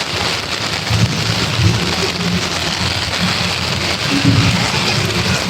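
Heavy, continuous rain pours down on a street in Manila, a dense steady hiss with low rumbling beneath, loud and unbroken, with no voices.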